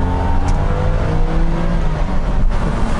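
A BMW E24 M635CSi with a warm engine pulls hard, its straight-six droning loudly and rising steadily in pitch under acceleration, heard from inside the car for about three seconds without talk.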